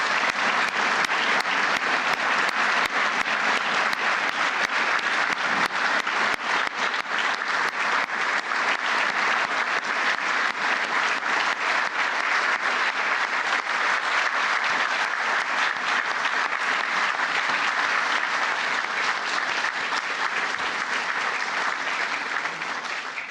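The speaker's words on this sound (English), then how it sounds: "I'd like to give one last round of applause to the recipients of the Medal of Valor" Sustained, dense applause from a large audience at a Medal of Valor ceremony honoring firefighters, steady and loud throughout with no letup.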